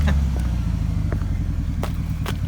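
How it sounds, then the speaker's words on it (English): A two-wheel-drive Ford Ranger off road rumbles loudly as its wheels spin on a rock, a steady low engine drone with a few brief sharp scrapes and knocks over the top. "He's spinning on a rock."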